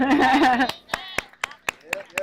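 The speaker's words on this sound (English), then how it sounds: "Let's clap" Sparse claps ring out at a cancer walk gathering at Al Tariq Temple, a handful of separate sharp hits after a voice finishes speaking, spaced unevenly like a small group clapping along.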